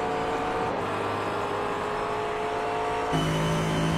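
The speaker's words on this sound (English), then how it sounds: "Crudo has done a good job of running down Tanaka's McLaren" McLaren race cars circulate on a racing circuit, a steady engine drone with a distinct pitch shift partway through as the cars change gear or pass.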